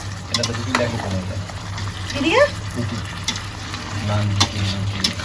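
Chicken gizzard and liver frying in a pan with potatoes and garlic, a close, steady sizzle with scraping stir strokes and a few clinks, while a voice speaks briefly over it.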